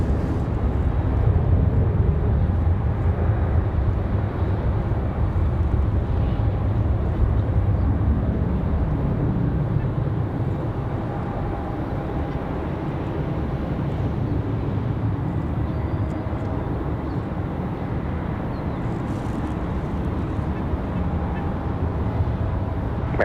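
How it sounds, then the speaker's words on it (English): An American Airlines Boeing 737 jet rolls for takeoff at Raleigh Durham International on a windy day, a broad, steady roar that holds loud and constant throughout, lightly easing in the second half. "Got an American 737 on the run."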